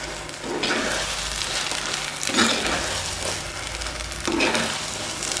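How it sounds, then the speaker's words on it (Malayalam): Ground paste being stirred into frying onions and green chilies for ginger theeyal, a continuous close sizzle punctuated by a few scraping stirs of the spoon against the pan, no voices. "ഇനി നമുക്ക് അരപ്പ് അടുത്ത് വെച്ച് നല്ലതുപോലെ മിക്സ് ചെയ്യാം."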